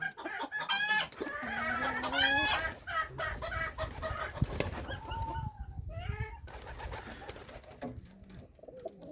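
Chickens cluck and chatter close by, with a rooster's crow and other poultry calls mixed in over a steady outdoor background.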